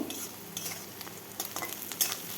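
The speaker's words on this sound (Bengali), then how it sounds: "ওই তেলেই দিয়ে দিচ্ছি শুকনো লঙ্কা তেজপাতা আর কেটে রাখা পেঁয়াজ ভালোভাবে ভেজে নেব" Sliced onions, dried red chillies and bay leaves frying in hot oil for a mixed vegetable dish, a soft sizzle with a few brief spatula scrapes and taps, quiet and close with no voices.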